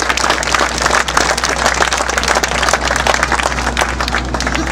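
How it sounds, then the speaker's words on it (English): Audience applause for the crew who restored a Lancaster bomber's engines at Nanton, dense steady clapping throughout with a constant low hum underneath. "I'd like you to give them a round of applause for all the work that they put into this"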